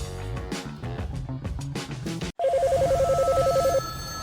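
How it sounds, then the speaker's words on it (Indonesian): A NASA hotline telephone rings with a steady electronic warble, a single loud burst cutting in abruptly after busy background sound. "Hotline NASA terus-terusan berdering."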